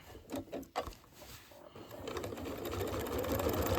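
A sewing machine runs a steady quarter-inch seam on a scrappy quilted table runner, its hum building after a few short handling bumps and continuing evenly to the end.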